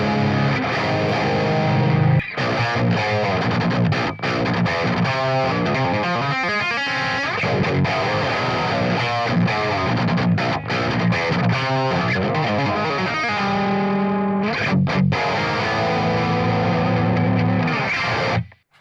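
Electric guitar played through the BIAS AMP 2 amp simulator, a loud distorted tone with chugging riffs, sustained chords and brief pauses across a long continuous passage.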